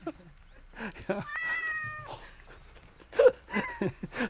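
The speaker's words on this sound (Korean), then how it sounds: "30일 전 이 집 마당에서 태어난 새끼 고양이" A month-old kitten born in a rural yard gives several thin, high meows close by, with some quiet background sounds between them.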